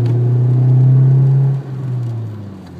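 A car accelerates up an Autobahn entrance ramp, its engine droning loud and steady with a low rumble, then easing off briefly after a gear change before pulling again.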